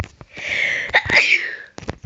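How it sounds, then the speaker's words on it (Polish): A single sharp sneeze from a person with a cold, close and loud, a quick inhaled buildup then the burst, followed by small mouth and breath noises. "Kichnęło mnie się."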